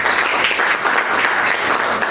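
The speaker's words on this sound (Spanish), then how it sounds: "Que también pido fuertes aplausos porque nos están acompañando" Sustained applause fills a lecture hall at a book presentation, a dense, even wash of many hands clapping at once, loud and steady throughout with no break.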